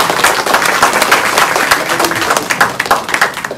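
Audience at a political rally in front of the US Congress breaks into dense, loud, close applause, rapid overlapping claps sustained throughout.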